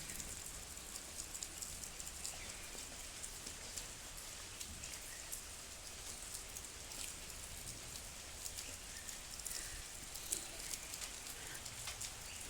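Steady, quiet rain falling outdoors beside a small Mhasoba temple in green surroundings, a soft continuous patter with occasional nearer drips.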